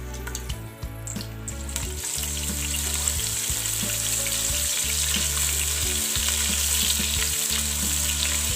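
Ginger garlic paste fries in hot oil with a steady, close sizzle and crackle. It keeps a constant level throughout, with faint stirring scrapes and no voices.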